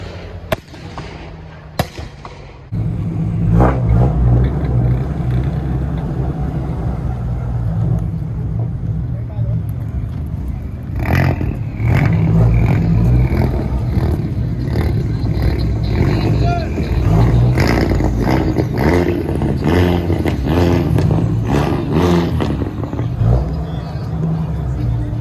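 A Volkswagen GTI holding revs against two-step launch control: a loud, steady engine drone with rapid popping crackles from the exhaust, sustained for about twenty seconds after a few brief sharp bangs at the start.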